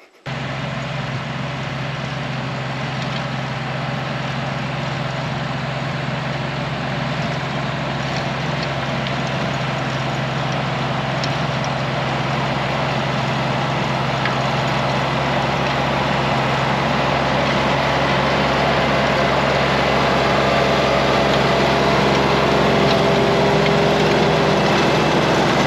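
A tractor engine runs continuously at a steady, heavy low drone while tilling a Wisconsin food plot, loud and close without pause for the whole stretch.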